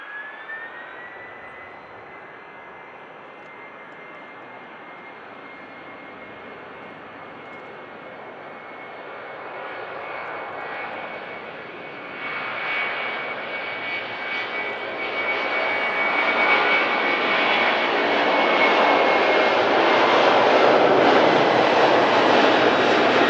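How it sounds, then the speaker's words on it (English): A jet airliner takes off from a Manchester Airport runway, its engine whine and roar building steadily from a moderate hum to a loud, broad thundering rush as it accelerates, with no voices. "How it just glides off the runway like that."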